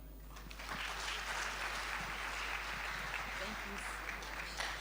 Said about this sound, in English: let's applaud them better